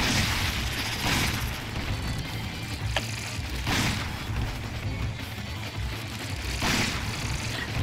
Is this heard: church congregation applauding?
no